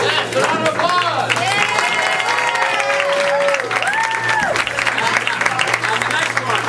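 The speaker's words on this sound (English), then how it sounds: "a round of applause" An audience applauds at a December theatre show, dense clapping held throughout, with cheering and whistle-like tones rising above it.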